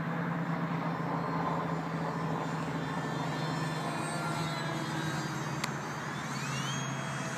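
A Parkzone Habu 2 RC plane drones steadily on a slow landing approach, its electric motor whine continuous and moderately loud against outdoor background noise.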